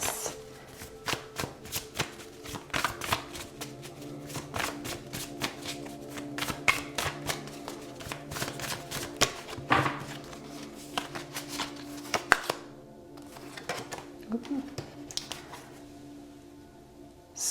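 Tarot cards shuffled by hand, a steady run of soft riffling and tapping for several seconds, close and fairly quiet, with a short lull near the end before more shuffling.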